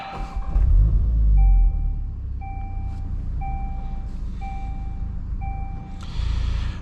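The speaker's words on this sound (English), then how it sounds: "to fire it up, foot on the clutch, foot on the brake, make sure we're in neutral, and start button" A 2024 VW Golf R manual started by push button: a loud low rumble as the engine fires and settles into a steady idle, while a chime beeps at a regular pace about once a second.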